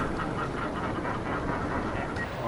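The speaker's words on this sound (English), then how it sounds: "Millions of birds, millions of birds." Dense seabird colony on Ballestas Island, Peru, a continuous mass of overlapping honking and squawking calls from countless birds, loud and unbroken.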